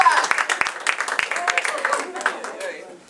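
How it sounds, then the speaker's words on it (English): Improv showcase audience giving a short round of applause, scattered sharp claps blending with voices and chatter over about three seconds. "Give them a round of applause."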